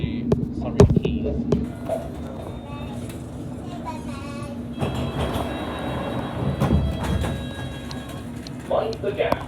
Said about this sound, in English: This is an all-stations Metropolitan Line train to Uxbridge